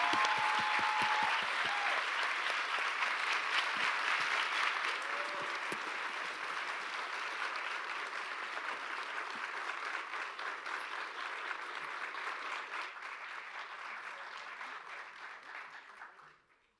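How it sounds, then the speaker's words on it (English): Sustained audience applause for a panel of speakers at a public event, a dense wash of many hands clapping that holds steady and then fades out near the end. "Let's give a really warm round of applause to our panelists."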